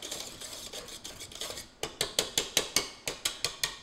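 A whisk scrapes and clatters against a bowl while mixing sugar for meringue, first as quick soft rattling, then as about a dozen sharp, evenly spaced strokes ringing off the bowl's side.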